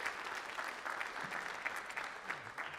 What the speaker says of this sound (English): So give yourselves a round of applause as well.